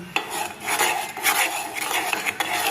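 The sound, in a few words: stirring ghee in a cooking pot by hand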